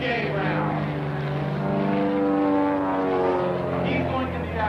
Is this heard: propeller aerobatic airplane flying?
yes